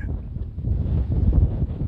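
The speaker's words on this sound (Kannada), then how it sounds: "ನೋಡಿ ಒಳ್ಳೆ ಗಾಳಿ ಬೀಸ್ತಾ ಇರುತ್ತೆ" Wind blowing across an open hilltop on Madhugiri Betta, a steady low buffeting rush against the microphone that swells and eases throughout, with no voices.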